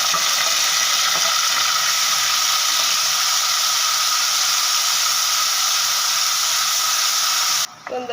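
Ground onion-tomato masala paste hits hot oil with a loud, continuous hissing sizzle that holds steady for several seconds, then cuts off abruptly near the end.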